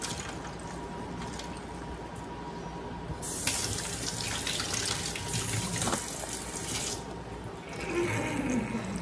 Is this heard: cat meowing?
no